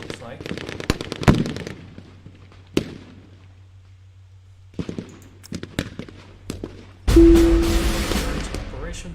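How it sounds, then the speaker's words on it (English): Video game mortar fire: a cluster of sharp booming blasts, then isolated thuds and a few more scattered explosions, ending in a loud sustained rumble with a tonal whine, fairly close and loud with no talking. "We can fire our mortar, it looks like."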